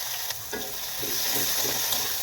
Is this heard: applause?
no